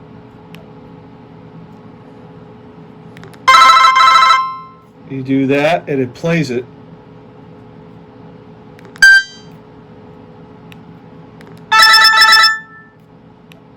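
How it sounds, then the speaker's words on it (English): Two bursts of a bright, chiming generic ringtone from a 2001 Motorola flip phone a few seconds apart, with someone talking between them and a brief beep in the middle. "these were the Motorola generic ringtones"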